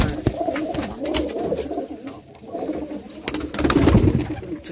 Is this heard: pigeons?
yes